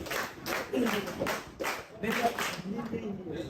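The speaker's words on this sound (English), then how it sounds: "Clap for her" A school audience claps for a girl who has just spoken about plastics and the environment, a steady patter of hands in short bursts under talk, fairly faint and distant.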